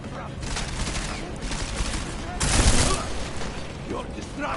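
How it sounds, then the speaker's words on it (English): Gunfire in Deus Ex: Mankind Divided, a steady stream of rapid shots and mechanical clatter with one louder burst in the middle, heard at moderate distance amid game ambience and brief speech. "Where are the shots coming from?"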